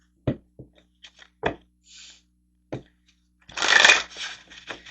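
Tarot cards handled close up: a few sharp taps and flicks as cards are set down, then a brief rippling riffle of the deck being shuffled near the end, with quiet gaps between sounds.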